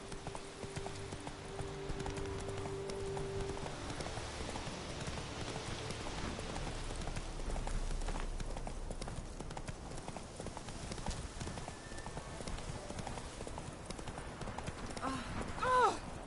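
Roach, a horse in The Witcher 3, gallops with steady clip-clopping hooves under continuous rain-like ambience and game sounds.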